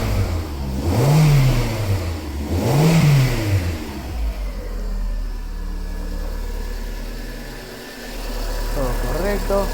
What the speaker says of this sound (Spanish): El vehículo arrancó perfectamente.